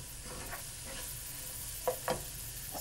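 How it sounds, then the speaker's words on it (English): Mushroom fried rice stirred in a hot pan, a low steady sizzle with soft scraping strokes and a couple of sharper clacks of the utensil near the end, no voices. "You have to make sure that you keep stirring it"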